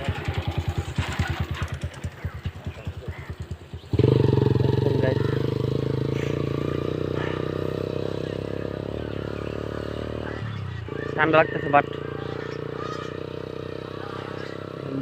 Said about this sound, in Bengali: পোলা পান যাইতেছে মোটর সাইকেল চালাইয়া।